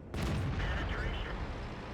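A single tank cannon shot in a video game, a sudden loud blast that rolls into a long, rumbling decay.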